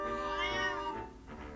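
A cat in Zelda: Echoes of Wisdom lets out a single clear, drawn-out meow, rising and then falling in pitch, close and distinct with no talking.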